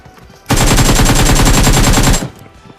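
Rapid, loud gunfire in PUBG Mobile fires in one continuous burst of about twenty evenly spaced shots lasting nearly two seconds, with no talk over it.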